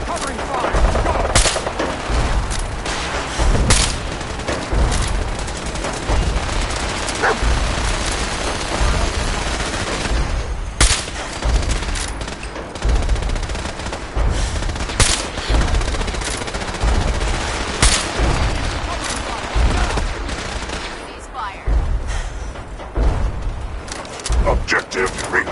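Covering gunfire in Fallout 4 during a Brotherhood of Steel battle against synths: loud, sustained bursts of automatic weapons and sharp single shots crackling over one another, with voices calling out amid the firefight.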